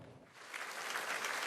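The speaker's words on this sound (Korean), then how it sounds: "이시바 시게루 일본 총리가 박수를 받으며 단상에 오릅니다" An audience applauds the Japanese Prime Minister as he steps onto the stage at a Korea-Japan diplomatic anniversary event in Tokyo, faint distant clapping swelling briefly.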